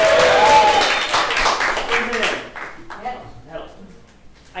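Audience applause at The Duo Show, a live comedy stage show, as a guest is called up; dense clapping and cheering fill the first couple of seconds, then thin out beneath voices as people start talking.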